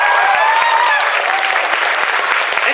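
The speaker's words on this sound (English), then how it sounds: "One last round of applause for Flare Mendes," An audience at a cosplay competition gives a loud, dense round of applause with some crowd noise mixed in, close and continuous throughout.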